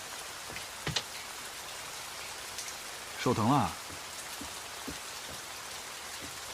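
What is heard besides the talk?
heavy rain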